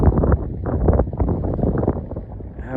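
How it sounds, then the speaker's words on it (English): Strong gusty wind buffets the microphone at the summit of a Colorado ski area, a rough, low rumbling roar that stays close and fairly loud from start to finish. No one speaks over it. "Up top here, wind is picking up."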